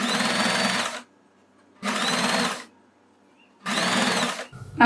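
A sewing machine stitches a bias strip onto the neckline of a net kurti in three short, even bursts of rapid whirring, with quiet pauses between them.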